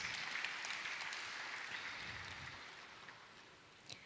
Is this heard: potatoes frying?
no